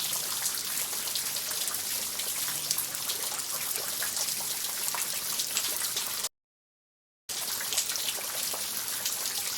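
Steady rain pattering and dripping on surfaces outdoors where a capuchin monkey plays, a dense continuous patter broken by one brief dropout, with no voices.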